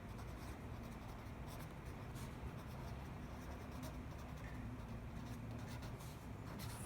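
A pen writing a formula by hand on paper during an accounting lesson, faint scratchy strokes over a steady low background hum, with no talking.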